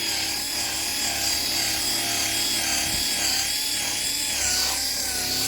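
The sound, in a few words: buffing headlight with compound using power buffer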